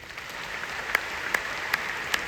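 A large crowd of several thousand people in Patna claps steadily at a seminar, a dense continuous wash of applause with a few sharper, louder claps rising out of it and no speech over it.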